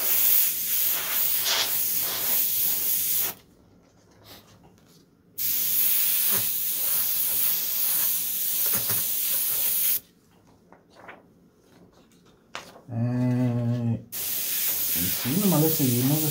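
An airbrush sprays blue paint in short, steady hissing bursts, stopping and restarting several times with quiet gaps between, close to the microphone, and a person talks briefly near the end.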